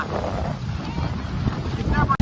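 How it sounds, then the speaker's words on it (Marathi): Big sea waves at Aravi beach, a continuous roar of surf heavily buffeted by wind on the microphone, loud and close with no clear breaks. "समुद्रामध्ये बघा लाटा बघा मोठ्या मोठ्या लाटा"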